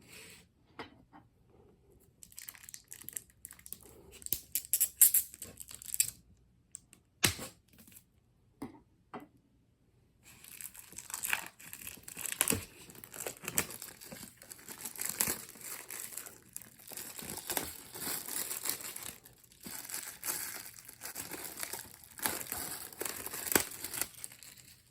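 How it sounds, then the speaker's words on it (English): The packaging of a Zombies Ate My Neighbors premium edition CD soundtrack and SNES game crinkles and rustles during unboxing, sparse handling at first, then steady close crackling of plastic and paper. "So let's go ahead and unbox this."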